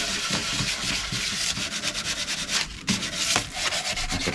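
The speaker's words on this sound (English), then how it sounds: "I'm just breaking the surface, just getting the top old, very, very old varnish off, and the dirt and grime." Steady rubbing and scraping of sandpaper across a wooden chair, stripping very old varnish and grime, with continuous gritty strokes close by and loud throughout, no talking.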